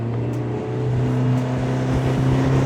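A motorboat with a 70 outboard engine punches onto the plane, its steady engine drone holding loud and close with strong low harmonics and water rush.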